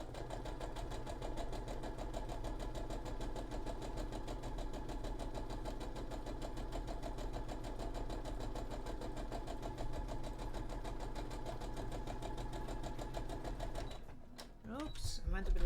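A sewing machine stitches a shoulder seam on a cosplay costume, running steadily and close with a fast, even whirring rhythm, and stops near the end.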